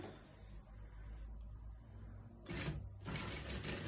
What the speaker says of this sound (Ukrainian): я закладаю технічну строчку. По всій довжині